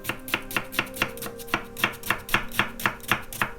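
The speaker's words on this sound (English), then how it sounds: "So we dice our onions up." A knife dicing onions on a chopping board for a vegetarian lasagna's tomato sauce, about twenty quick, even chops in a steady rhythm, close and crisp with no talking.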